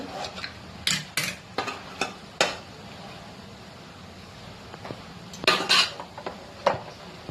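A metal spoon stirs rice pulao mixed with fried ingredients in a pot, giving sharp clinks and scrapes in irregular bursts against a quiet kitchen background.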